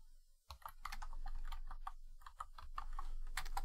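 Close, quick keystrokes tap on a computer keyboard in an irregular run of light clicks, alone in a quiet room.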